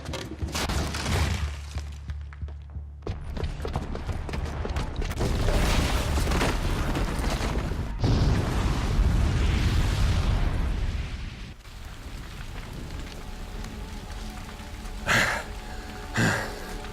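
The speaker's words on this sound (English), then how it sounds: "the booby trap on the bomb downstairs is gonna get set off" Bomb booby trap detonates in Horizon Zero Dawn, a loud sustained roaring blast with crashing, rumbling debris that carries on for several seconds before fading into quieter rumble and a couple of sharp later impacts.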